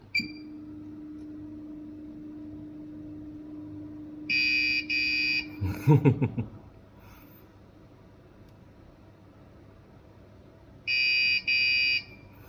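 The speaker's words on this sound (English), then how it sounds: "the beeping sound from the homing sensor is very different" Two short bursts of high-pitched electronic beeping from a Phrozen Sonic Mini 8K S 3D printer's homing sensor, separated by a long pause, with a low hum and a brief mechanical clatter between them.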